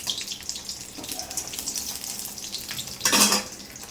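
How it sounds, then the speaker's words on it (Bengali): Parshe fish fries in a home kitchen pan, a steady soft sizzle with light stirring scrapes and a brief louder burst of hissing near the end, no talking. "এখানে পার্শে মাছ ভাজা হচ্ছে"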